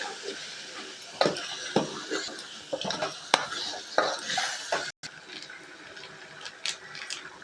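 Biryani masala being stirred and fried in a metal pan: a spoon scrapes and clinks against the pan in irregular strokes, close and moderately loud, with kitchen clatter and a brief cut partway through.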